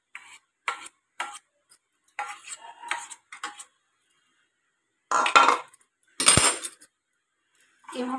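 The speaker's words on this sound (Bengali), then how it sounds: "এইভাবে জিনিসটাকে একটু কন্টিনিউ নাড়তে হবে" Rice flour paste is stirred in hot water in a pot on the stove, heard as short bursts of spoon scraping and clinking against the vessel, separated by silent pauses, with a couple of louder scrapes near the end.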